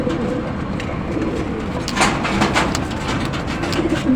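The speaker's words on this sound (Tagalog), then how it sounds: "At itong isang ibon din na to." A pigeon gives soft, repeated throaty coos at close range over a steady background hum, with a few brief sharper chirps in between.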